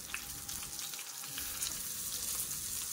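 Eggplant slices fry in hot oil with a steady, crackling sizzle, close and even throughout, with faint stirring and no talking.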